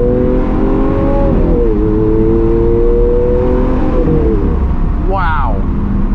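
A Lamborghini Aventador SV engine braking on a downshift, a loud, steady engine drone that drops in pitch as revs fall, followed by a sharp blip as the revs rise on the next gear change, heard from close inside the car.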